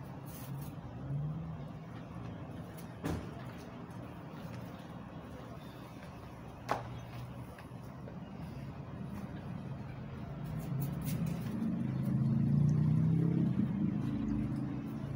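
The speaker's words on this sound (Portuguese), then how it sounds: "Tem muito barulho de carro, pessoal." Steady road traffic noise from a nearby highway, a low continuous rumble of passing cars swelling louder toward the end, with a couple of sharp knocks and no talk.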